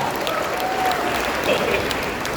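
An audience at a marketing plan presentation applauds in a steady, continuous wash of clapping, moderately close, with faint voices running through it.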